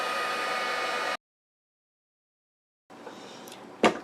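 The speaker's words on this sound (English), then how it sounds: "make sure your heat tool is nice and hot before you bring it to heat your spider web" A craft heat tool blows hot air over an embossed spider web on acetate, a steady airy whoosh that cuts off abruptly, leaving silence before a fainter blowing resumes with a brief sharp knock.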